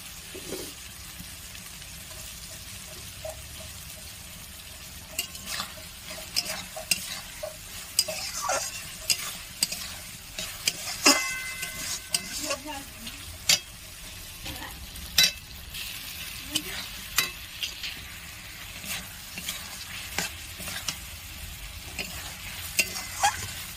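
Sattu, roasted chickpea flour, is stirred in a hot pan, a steady soft sizzle broken by repeated scraping strokes of a spatula against the metal, close and alone.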